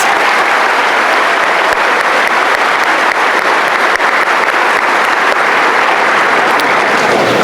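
A large graduation ceremony audience claps for high school scholarship recipients, giving a loud, sustained round of dense applause that keeps an even level throughout without any talking.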